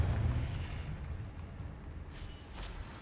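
A fiery blast spell in Hogwarts Legacy booms at the start, a deep low rumble that slowly fades into a rolling tail with a faint crackle near the end.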